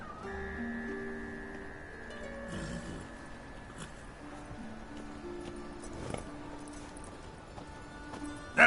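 Roach, Geralt's horse in The Witcher, moves with a soft, steady clip-clop of hooves set beneath sustained musical tones and game ambience, ending in a short louder knock.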